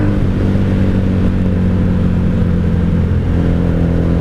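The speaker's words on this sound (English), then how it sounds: "The heart of a sport bike V4 engine." A 1997 Honda Magna 750 VF750C with a sport-bike-derived V4 engine runs with a deep, steady throbbing hum close by, holding a fairly even level throughout without sharp revving peaks and with no talk.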